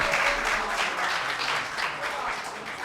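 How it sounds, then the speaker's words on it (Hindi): Audience at a mushaira in Bhopal applauds to welcome a poet, steady close clapping throughout with a voice speaking underneath. "जोरदार तालियों में इस्तकबाल कीजिए"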